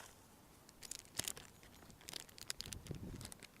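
A plastic bag is handled outdoors during bank fishing, with faint crinkling and rustling bursts coming in irregular clusters against quiet background.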